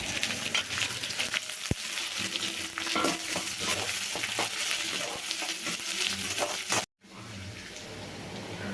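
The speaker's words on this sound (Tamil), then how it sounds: "எல்லாத்தையும் சேர்த்து பொன்னிறமாக வர வரைக்கும் வதக்குவோம்" Onions and a handful of curry leaves sautéing in a pan, a steady dense sizzle with stirring scrapes, briefly cut to near silence near the end before the frying resumes, no talk.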